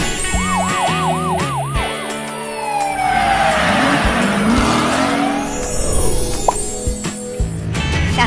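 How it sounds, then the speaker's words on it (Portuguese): Police car siren wailing in rapid repeating sweeps, followed by a busy mix of revving engines and swooshing effects, loud and continuous with no talking. "Carro de polícia."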